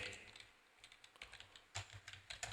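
Keys tapped on a computer keyboard in quick uneven bursts, close and fairly quiet, with short pauses between clusters of clicks and no talking.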